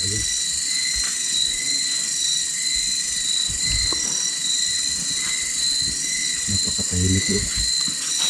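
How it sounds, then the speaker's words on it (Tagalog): A constant high insect drone fills the night air near a beehive, steady and continuous throughout, with faint low rustles and footsteps underneath. "Bubuyog lang."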